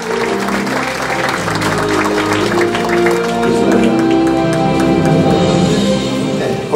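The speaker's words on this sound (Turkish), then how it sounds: "Profesör Doktor Sayın Orhan Kural, alkışlarımızla sahneye geliyor." Audience applause fills an awards-ceremony hall as a presenter walks on stage at the Altın Kanat awards, a steady, dense wash of clapping held over music throughout.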